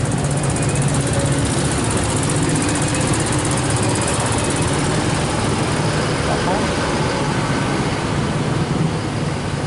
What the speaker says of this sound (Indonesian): Kemacetan yang sangat padat.